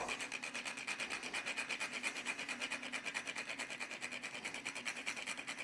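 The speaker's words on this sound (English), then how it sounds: "We're not using the whole cinnamon stick. We're just going to, again, grind a little." Cinnamon stick rasped against a grater or grinder for a sweet potato pie, a steady close rhythmic scraping that repeats quickly and evenly for several seconds, with no talking.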